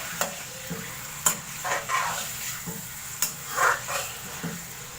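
Chicken pieces frying in a pan for a chicken matar curry, with a spoon stirring them now and then; a soft steady sizzle runs under sharp scraping clicks and brief louder bursts, with no voices.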